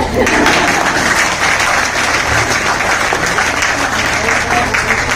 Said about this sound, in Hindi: बिना जोश की ताली बजा